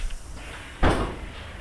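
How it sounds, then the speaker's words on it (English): IC VIRM train doors opening in a train simulator game at Den Bosch station: a single broadband whoosh-thump about midway, moderately loud over a quiet background hum. "And we will open the doors."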